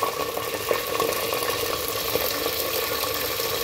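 Goat meat, half a kilo, hitting onions frying in a pan for shalgam gosht, giving a steady, close hiss of sizzling oil that holds evenly throughout with faint bubbling.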